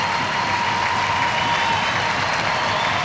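An ice hockey crowd at a Sheffield Steelers v Coventry Blaze EIHL match roars and applauds after an attacking move. The cheering is a steady, dense, loud wall of noise that lasts the whole stretch.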